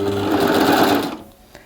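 A serger sews and trims fabric in a fast, loud mechanical burst of stitching that ends abruptly after about a second, followed by a faint click.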